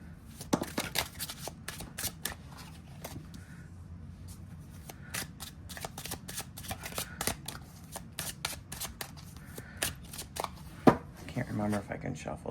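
A Dream Song Oracle card deck with rough edges gets shuffled by hand. Quick, close, papery riffles and taps continue steadily for several seconds while a voice talks over them.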